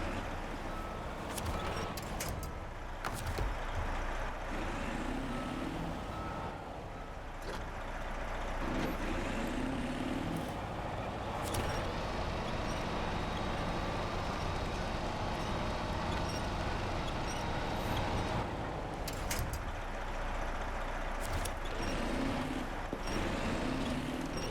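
A massive military truck's engine labours steadily while rock crawling up a rocky trail in the video game Snowrunner, a continuous low rumble with occasional hissing bursts and mechanical clunks throughout.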